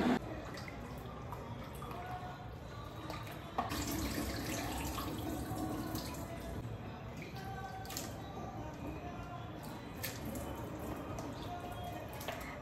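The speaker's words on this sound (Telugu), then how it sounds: "ఓకే, సెకండ్ టైం వాష్ చేసుకుంటున్నాం కాబట్టి this time let's add some salt" Mutton pieces washed in a kitchen bowl with water, salt and turmeric for a Telangana curry: steady running and splashing water with sloshing and dripping throughout, moderately close, with a faint voice at times.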